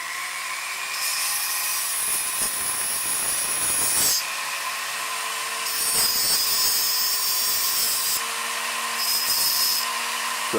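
Whining power saw cutting trim close by in long, steady passes, with a high-pitched buzz and rough grinding as the blade bites into the material.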